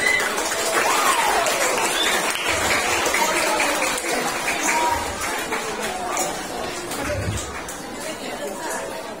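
Crowd at a children's Islamic prayer camp lecture applauding steadily after a quiz answer, mixed with chatter and babble throughout, fairly loud and continuous.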